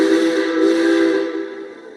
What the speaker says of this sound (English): Yeah, I hear that whistle blowing.